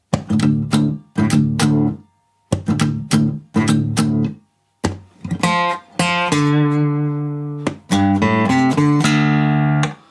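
An acoustic guitar tuned to drop D plays strummed chords in short bursts separated by pauses, then rings out with longer sustained chords and a picked pattern.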